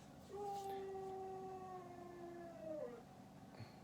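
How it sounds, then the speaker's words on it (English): An Alaskan Malamute dog gives one long, steady howl that bends downward at the end, heard alone and fairly near over a quiet background hiss. "pardon the dog. He's an Alaskan Malamute"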